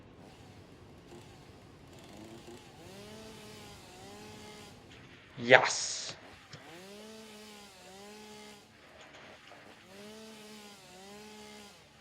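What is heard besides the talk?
chainsaw cutting down a tree in the video game Satisfactory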